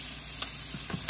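Five turkey burgers sizzling in a pan, a gentle continuous fry with a few soft clicks and a sharper crackle burst at the end, heard close with no talking.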